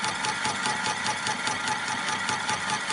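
Milling machine with a circular saw cutting through a workpiece, a steady whirring mechanical drone with a fast regular ticking pulse from the rotating blade, constant and close.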